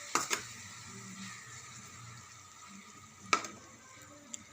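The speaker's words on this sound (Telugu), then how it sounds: "ఈ ఉల్లిపాయలు బాగా ఫ్రై అయ్యేంత వరకు" Onions fry in a pan for a gongura prawn curry, a faint steady sizzle broken by a few sharp clinks of a spoon against the pan.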